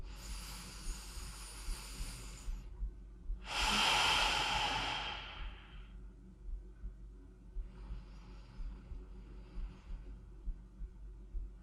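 Deep, slow breathing during a relaxing stretching workout: a long, airy exhale, a pause, then a strong close inhale, with a softer breath near the end over quiet background.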